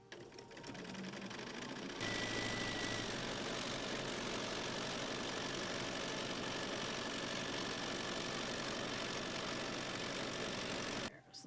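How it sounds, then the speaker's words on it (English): A sewing machine stitches a row of quilt blocks together for a faux chenille baby quilt, running in one steady, loud, continuous whir for about nine seconds before stopping abruptly. "So we're going to take the first row and sew them together."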